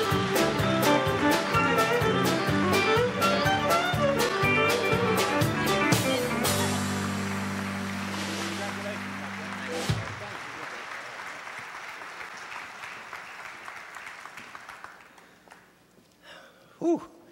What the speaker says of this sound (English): Give a resounding round of applause to J.D.